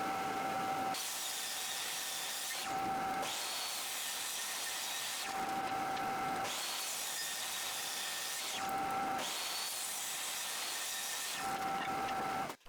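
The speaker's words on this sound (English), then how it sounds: "I'll resaw the thicker white maple into 4 slices total." A saw resaws a thick white maple board into slices, with faint, evenly repeating bursts of harsh cutting noise alternating with a quieter hum of the running machine.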